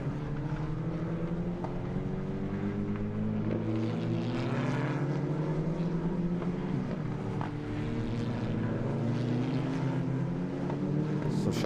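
Race car passes with heavy front bodywork damage, a continuous loud engine roar with shifting pitch over the whole stretch, broad and rough; any flapping is buried in the engine noise.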